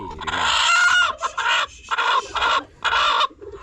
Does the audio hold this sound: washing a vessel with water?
no